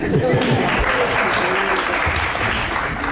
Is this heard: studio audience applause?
yes